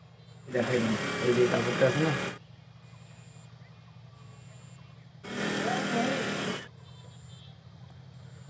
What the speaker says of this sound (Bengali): ঘেরের যে অংশটা এটাকে সেলাই দিয়ে নেব